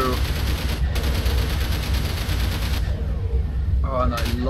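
A powerful spaceship weapon firing in Everspace, loud rapid repeated shots in long sustained bursts with brief pauses, over a constant engine rumble.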